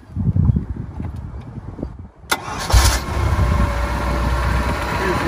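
A warm engine on a Monterey 180 bowrider boat, sitting out of the water, cranks briefly and catches, then settles into a steady, loud idle close by.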